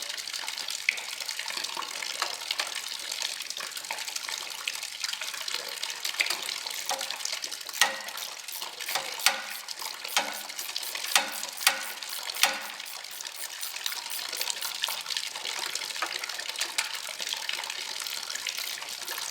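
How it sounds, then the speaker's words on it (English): Water drains steadily from the engine of a Routemaster double-decker bus that has a failed water pump, making a continuous gushing splash like a running tap. It is close and sustained, with scattered drips and clatters. "while the water's draining"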